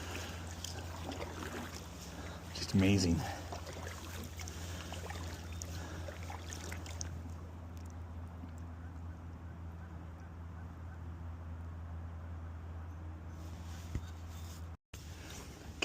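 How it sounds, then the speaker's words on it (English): A boat being paddled upriver on the calm, windless Fraser River past log booms: soft, distant water and paddle noise under a low steady hum, with a brief spoken remark near the start and a faint honk-like tone. "Just paddling upriver in the Fraser, past a bunch of log booms"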